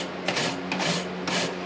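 A white bristle brush scrubs a BLACK+DECKER 10,000 BTU portable air conditioner, making close, steady swishing scrapes in three distinct strokes over a constant background hum.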